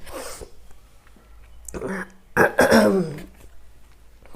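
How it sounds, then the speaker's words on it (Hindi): A person sneezes indoors while suffering from a slight cold, a sharp burst followed by a short trailing exhale, fairly close and loud against a quiet room. "मुझे ना छींक आ रही है क्योंकि सर्दी लग रही थोड़ी थोड़ी"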